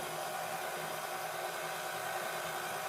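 Electric mixer beating chocolate stout cake batter with flour and buttermilk, a steady loud motor whir running continuously without pause, close and alone.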